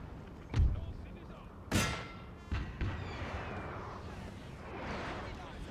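Artillery fire in the Napoleonic-era strategy game Napoleon: Total War: several heavy booms, two close together early on, then rolling echoes and a steady battlefield din.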